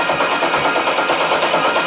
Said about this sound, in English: We could also have that going through a delay as well